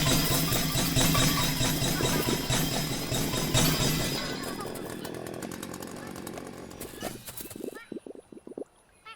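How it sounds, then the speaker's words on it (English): A chainsaw buzzes loudly and continuously while blending blueberries into a smoothie in the video game Berry Bury Berry, then breaks into choppy, stuttering bursts and clattering hits before cutting out near the end. "We'll just make that smoothie with the chainsaw."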